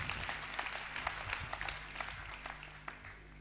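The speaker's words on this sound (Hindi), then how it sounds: "आप ताली बजाकर सूचित कर रहे हैं कि हमारी बात आप तक पहुंच रही है" Applause from the audience at a comedy and poetry stage show, a steady wash of many hands clapping at moderate distance, fairly soft and continuous.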